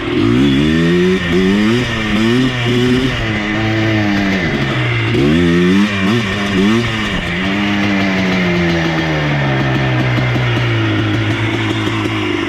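An abandoned ATV's small engine revs up and down in uneven bursts, sputtering and dipping as it cuts out, then holds a rougher idle, loud and close with no talk.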